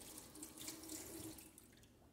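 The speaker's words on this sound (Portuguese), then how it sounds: "Vou lavar aqui minhas mãos." A kitchen tap runs while hands are washed after handling eggs, a faint, close, steady splash of water with slight fluctuations, no talking.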